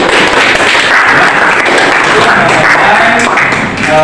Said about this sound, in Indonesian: Iya, tepuk tangan lagi